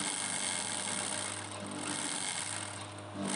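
A sewing machine stitches a collar neck in a continuous steady mechanical whir with a low hum, close and fairly quiet throughout, briefly easing near the end.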